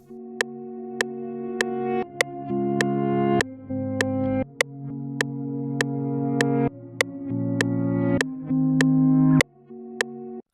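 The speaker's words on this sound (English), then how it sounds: "I'm going to double click this particular audio and just press reverse" A reversed guitar track in an Afrobeats production, with swelling tones that grow louder before cutting off sharply. The notes come in a steady rhythmic pattern of pitched chords for about ten seconds, with no voices.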